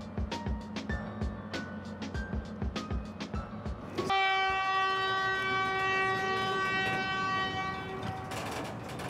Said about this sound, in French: C'est ici qu'arrivent les trains qui transportent les déchets nucléaires en provenance des centrales.